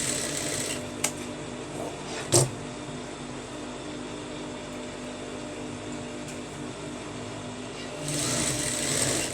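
A sewing machine runs steadily while joining a round neckline, a continuous mechanical whir with a few small clicks, growing louder and busier toward the end, no talking.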